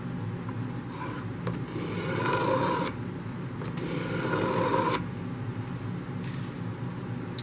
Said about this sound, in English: now we're just going to take a card scraper here and just scrape it down